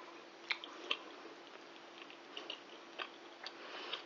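Quiet, close chewing of a bite of gyros noodle bake with melted cheese, with soft wet smacks and faint clicks spaced irregularly over low room hiss.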